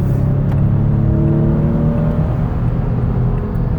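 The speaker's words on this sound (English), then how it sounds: "So let me give it some gas." A 2017 Toyota Sienna LE mobility van accelerating on a highway, a loud steady engine drone with rising tonal whine and road rush heard from inside, no talking.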